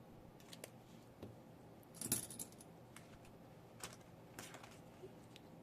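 Euro coins dropped into a budget envelope, a scatter of faint, sharp clinks and small taps at irregular intervals, one slightly louder cluster in the middle, against quiet room noise.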